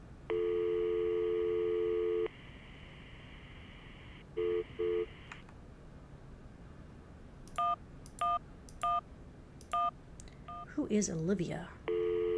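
A phone in the Syberia adventure game plays a long tone, then a pair of short busy-signal pulses, then a run of keypad dialing beeps, with a brief burst of speech near the end before the tone starts again.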